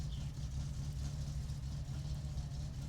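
A car engine idling in neutral with the brake on in the video game My Summer Car, a steady, low, even rumble that holds unchanged throughout at a quiet level.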